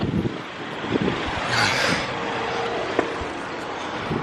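A 2023 Kia Forte GT-Line engine idles nearby with a steady, even hum under broad road-like noise, with a few faint clicks and no voices.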